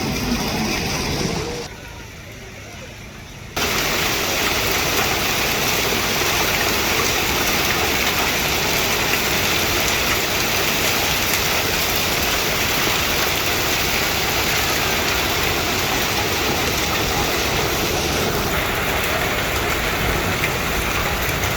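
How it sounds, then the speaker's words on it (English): Heavy hail pounds down in Rome near the Colosseum, a dense, loud, unbroken roar that dips briefly near the start and then holds strong to the end. "it actually started heavily hailing, which was quite insane"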